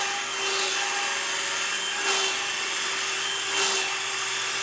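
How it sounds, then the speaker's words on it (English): Boar hair brush scrubbing a ski base, three rhythmic swishing strokes rising over a steady background hum, close and moderately loud, with no talking. "After the brass, I'll switch to a boar hair. This will help clean out whatever was left from behind of the brass."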